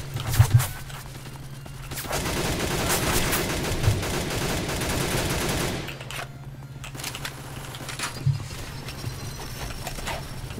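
Automatic rifle gunfire in the Roblox game Ragdoll Universe: a sustained, loud burst of rapid shots lasting several seconds, then quieter stretches with a few isolated pops over a low steady game hum.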